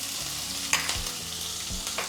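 Lentils sizzle and fry in hot oil in a pan while being stirred, a soft steady crackle broken by a few scraping stir strokes, close and moderately quiet.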